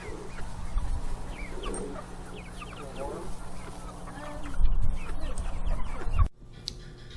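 Chickens cluck in a backyard flock, several birds close by giving short repeated clucks over a low steady hum, followed by a brief thump and then quieter background.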